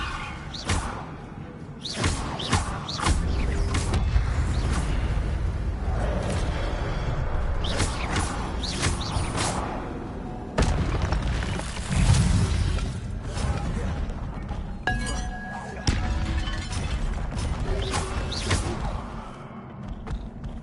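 Incendio and Levioso spells are cast in Hogwarts Legacy, making repeated whooshing bursts, crackles and shattering impacts in quick succession over a steady rumbling game background for about twenty seconds, with no talking.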